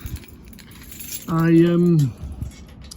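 A bunch of keys jangles close by indoors, with a short whining, squeaky tone about halfway through and light clinks around it, and no talking.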